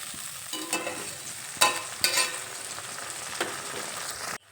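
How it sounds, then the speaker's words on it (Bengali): Ground mustard-poppy spice paste sizzles in oil in a pan while being stirred, a steady soft frying hiss broken by occasional scraping stirs, close and fairly quiet, with no one speaking. "বাটা মশলাটা তেলের সঙ্গে ভালোভাবে মিশিয়ে নেব।"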